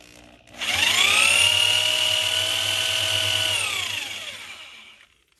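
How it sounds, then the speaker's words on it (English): A power drill with a 7/16 bit cuts out a rivet hole in a car's metal control arm during ball joint removal, a loud steady whine ramping up, holding for about three seconds, then winding down. "So back to the 7/16 drill bit."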